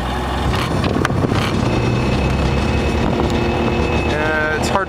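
Engine of a 2001 Sea-Doo Challenger twin-engine two-stroke jet boat running out of the water with no water hooked up, a loud continuous drone with a steady tone that keeps going throughout.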